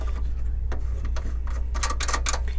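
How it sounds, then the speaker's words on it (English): Small black side-panel screws are backed out of a Dell Vostro 3681 desktop case, giving soft ticking clicks and scraping rubs under a steady background hum. The clicks turn sharper and more frequent toward the end. "the first thing I like to do is to unscrew the two black screws here on the side"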